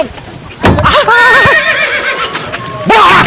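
A horse neighs loudly in two bursts: a long, wavering whinny about a second in, then a shorter sharp call near the end, recorded close with some background noise.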